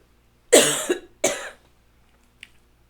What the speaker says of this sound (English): I'm not gonna cough through all this